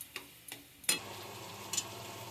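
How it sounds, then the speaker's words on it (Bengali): Vegetables going into hot oil tempered with bay leaf, dried chili and cumin, a few sharp spatula clicks, then a sudden sizzle that settles into a steady hiss. "ফোড়নটা পুড়ে গেছে, এবার সবজিটা ধরে দিচ্ছি।"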